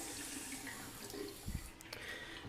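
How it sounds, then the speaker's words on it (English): Water runs steadily from a newly connected hot and cold tap in an upstairs bathroom under renovation, a constant nearby splashing stream with a few louder gurgles and spatters. "Finally. Hot and cold's working."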